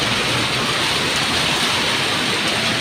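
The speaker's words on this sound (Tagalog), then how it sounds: "Sobrang lakas ng ulan." Heavy rain pours down steadily in a dense, unbroken hiss, loud and close, with no voices.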